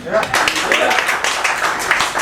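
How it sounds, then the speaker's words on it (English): A comedy club audience claps after a stand-up comedian asks who has been skydiving, giving a sparse patter of applause that is brief and fairly close, with talking and murmurs mixed in. "Round of applause"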